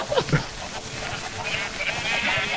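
Sheep bleat in the video game Minecraft: a few short, nasal bleats near the start, set against steady game background noise.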